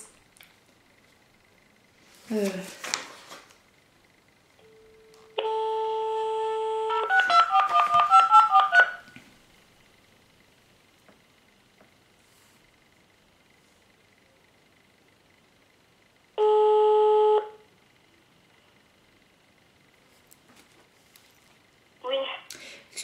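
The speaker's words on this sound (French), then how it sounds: "mon téléphone se coupe à chaque fois à 1h10" Telephone tones as a call drops: a steady electronic tone runs a few seconds, then a later repeat of the same tone, with brief bursts of voice and faint line noise around them.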